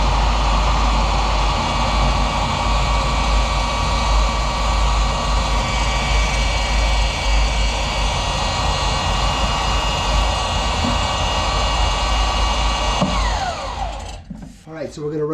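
A chain descaler whirs continuously inside a cast iron drain line, a loud, steady high-pitched mechanical drone with a grinding edge that cuts off abruptly near the end.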